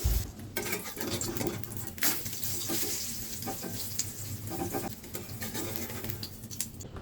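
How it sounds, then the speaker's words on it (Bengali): Eggs fry in a pan for khichuri, a soft, continuous sizzle close by with occasional light clatter of the pan. "খিচুড়ির সাথে খাওয়ার জন্য ডিম ভেজে নিচ্ছি"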